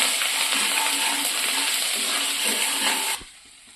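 Garlic paste and spices fry in hot oil for restaurant-style egg masala, a steady loud sizzle with faint stirring scrapes that cuts off abruptly near the end, leaving a quiet hiss.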